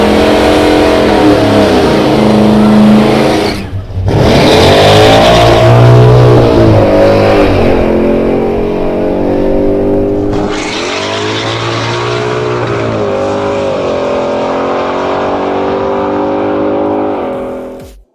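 A 1958 Edsel accelerates hard on a drag race test run, its engine roaring loud and close through several rising revs and gear changes, then holding a sustained drone before cutting off.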